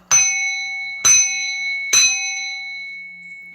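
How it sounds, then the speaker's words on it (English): Three loud, ringing strikes on a metal bell come about a second apart, each with a sharp attack and a bright, lingering decay that overlaps the next hit. Nobody speaks. "I'm gonna bang this bell"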